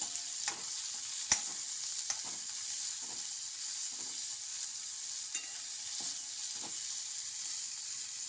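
Sweetcorn and bell pepper fry in a pan with garlic, giving a steady close sizzle with a few faint stirring clicks and scrapes scattered throughout.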